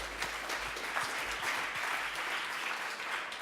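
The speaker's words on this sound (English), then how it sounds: "Round of applause." A crowd at a 2015 hyperlocal startup showcase in New York gives a short, fairly quiet round of applause, even clapping with no voices over it.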